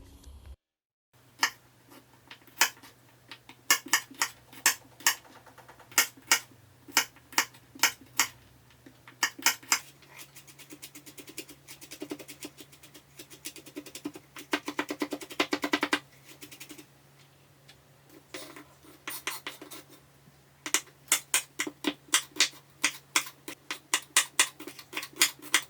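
A knife finely chopping chili on a cutting board, sharp rhythmic taps coming in quick runs with short breaks, close and clear with no talking.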